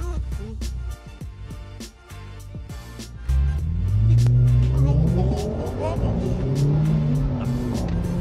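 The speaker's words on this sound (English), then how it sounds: "The acceleration on those Audi are crazy." An Audi car accelerates hard on the road, its engine rising in a loud, close roar that climbs in pitch and holds steady, with sharp clicks and knocks earlier and people talking over it.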